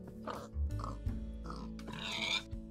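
A pig in Minecraft with the ChromatiCraft mod oinks and grunts as it is punched, several short, close, fairly loud squeals and snorts in quick succession with no talk.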